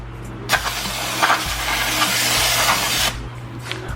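Brake cleaner sprays from an aerosol can onto a brake caliper in one sustained, loud hiss lasting a few seconds, over a low steady background hum.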